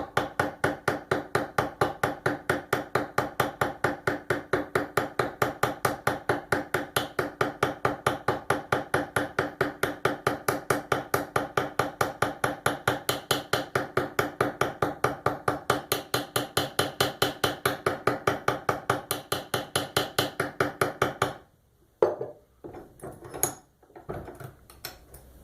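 Steady, rapid hammer blows flatten hot nail stock held in a vise during handmade nail forging, about a hundred sharp metallic strikes in even rhythm for over twenty seconds before they stop and a few scattered knocks follow.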